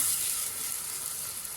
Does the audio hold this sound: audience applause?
no